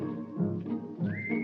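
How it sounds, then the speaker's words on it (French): Whistle blasts ring out in short, shrill bursts, several in quick succession with one rising sharply in pitch near the end, fairly close and loud over a low background murmur. "Que signifient ces coups de sifflet?"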